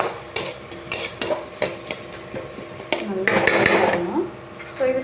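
Turmeric-dusted ingredients frying in a pan while a spoon stirs and scrapes, with repeated sharp metallic clinks against the pan over a steady sizzle that swells louder toward the end.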